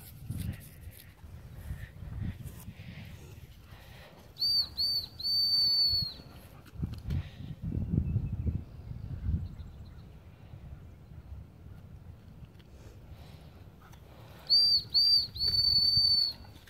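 Two bursts of a high, trilling dog-training whistle, each a few quick pips followed by a long held tone, sound for recall practice with a dog outdoors, separated by quiet, low rumbling background noise.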